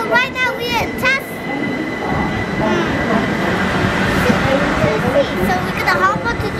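London District line train pulling to a stop at Barking station, a steady rumble of wheels and carriage noise with brief squeal-like tones, heard close and continuous while a voice talks over it.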